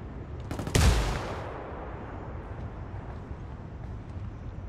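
A single sharp burst of gunfire in Ghost Recon Wildlands, a brief loud crack followed by a fading echo and a continuing low outdoor rumble.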